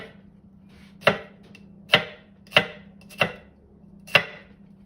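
An onion is chopped with a knife on a cutting board in five distinct, evenly spaced sharp chops, close and crisp against a quiet background.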